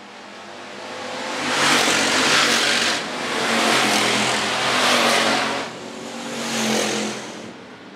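Hobby stock race cars roar past on a raceway straightaway, engines swelling and fading in several loud passes, one after another, with steady track noise between.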